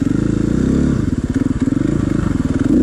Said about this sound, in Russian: Сейчас я попробую поднять мотоцикл метра за 2 до